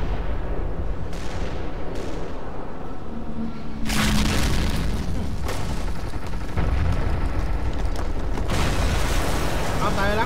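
Artillery shells burst in the World War II strategy game Company of Heroes during a custom battle, a series of heavy booming blasts over a dense rumble of gunfire, with someone talking underneath.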